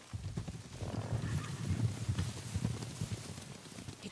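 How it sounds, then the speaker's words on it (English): Rapid hoofbeats of horses in a video game thud at a steady gallop, a dense rumbling rhythm that swells briefly then continues at moderate volume. "Horses, they're coming for us."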